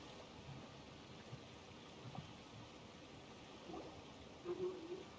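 A waterfall in Genshin Impact gives a faint, steady wash of falling water in the background, with a few soft game sounds over it.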